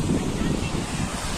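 Cold wind gusting across the open, snowy high-altitude Rohtang Pass, a steady rough rush buffeting close to the microphone with no clear breaks.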